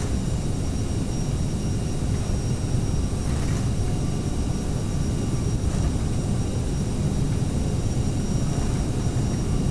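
Airliner engines roar at takeoff thrust in the Prepar3d flight simulator, a loud, steady broadband jet rumble that holds unchanged throughout.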